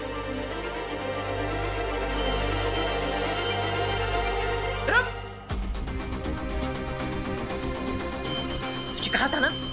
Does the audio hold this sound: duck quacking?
no